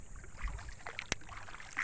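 Oars paddle a small boat across the sea after its engine broke down from overheating, giving faint, soft splashes and knocks over steady wind and water noise, with one sharp click near the middle.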